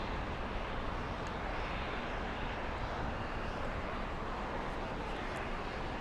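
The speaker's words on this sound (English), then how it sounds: "Copa 360 flying in from Panama City." A Copa airliner arriving at LAX from Panama City, its jet engines a steady, broad distant roar that holds evenly throughout with no voices.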